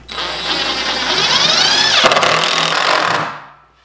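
A power drill drives a long, heavy screw straight down into wood. The motor whirs with a rising pitch, then cuts off abruptly, and the clip ends in quiet.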